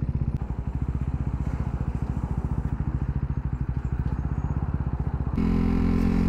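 A second-hand, well-worn KTM RC 390 motorcycle during a 0-100 km/h speed test: a loud, close, rapid engine pulse throbs steadily, then shifts into a smoother, denser drone near the end.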